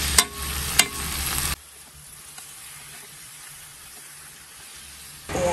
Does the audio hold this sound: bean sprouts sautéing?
yes